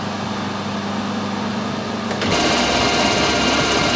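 A metal lathe taking a fine screw-thread cut: a steady mechanical whine and hum runs throughout, with the motor note shifting and growing slightly louder about halfway through, no voices present.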